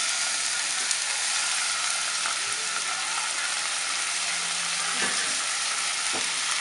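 Young sunflower sprouts hiss and crackle loudly in a hot pan as they are stir-fried, a dense steady sizzle with occasional scraping clicks of the spatula and no talking.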